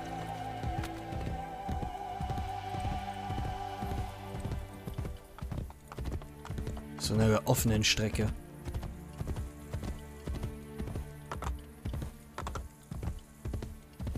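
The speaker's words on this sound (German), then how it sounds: "Wir können auch einfach mal das Pferd rufen" A summoned horse gallops across open ground in the video game Assassin's Creed Brotherhood, rhythmic hoofbeats thudding steadily under someone speaking German, with a brief burst of mechanical clatter midway.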